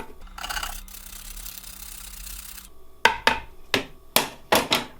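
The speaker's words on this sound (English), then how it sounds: "I am going to grate some nutmeg" Whole nutmeg grated for homemade Ezekiel-style bread: a brief scraping rasp, then a quick run of sharp, close strokes in an uneven rhythm.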